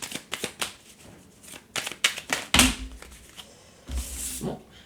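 Tarot cards shuffled and flipped close by, with quick riffling bursts, soft snaps and a couple of heavier slaps as cards are laid down.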